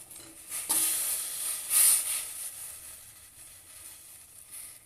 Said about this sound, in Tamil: இந்த வெல்லம் நல்லா கரைஞ்சி கொதிச்சு நல்ல பாகு பதத்துக்கு நமக்கு வரணும்